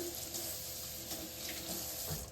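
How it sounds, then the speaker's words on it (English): Tap water runs steadily into a kitchen sink while a knife covered in garlic skin is rinsed under it, a continuous close splashing hiss with no talking. "Just gotta rinse off my knife here."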